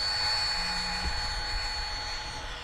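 A Freewing F-18 90mm electric ducted-fan RC jet making a fast presentation pass over a grass field, a steady loud whining roar that holds throughout with a faint hum beneath.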